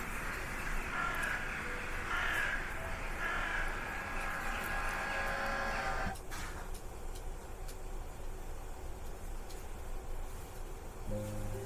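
Crows cawing in the video game Strange Antiquities, a steady ambient layer of calls running for several seconds over a dark, rumbling background, then thinning out after a sharp break.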